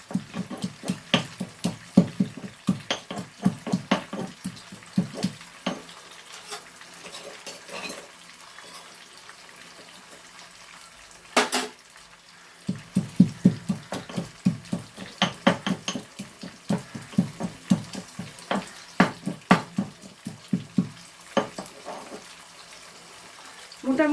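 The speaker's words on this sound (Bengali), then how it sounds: "এবার দুটোকেই তেলের সাথে একটু নেড়ে নেব, হালকা নাড়বো" Green peas are stirred in oil in a kadai with repeated rhythmic scraping clinks of a spatula against the metal pan, close up, pausing briefly midway and resuming, with a faint frying hiss underneath.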